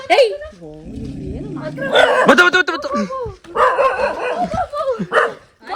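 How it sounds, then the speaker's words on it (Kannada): A dog on a village farm with sheep and cousins around gives several short barks and yips, close by, mixed in with people talking over it. "ಇದೊಂದು ನಾಯಿ ಅದೊಂದು ನಾಯಿ"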